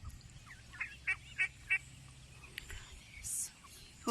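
Duck calling at a creekside park, a few short raspy quacks in quick succession at moderate distance, with soft background noise.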